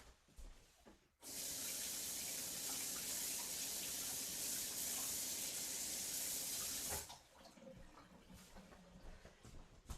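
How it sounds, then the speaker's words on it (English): A kitchen tap runs into a sink as a scoop is rinsed, with a loud, steady rush of water starting abruptly and cutting off after several seconds, between quieter handling sounds. "Let me just rinse this off."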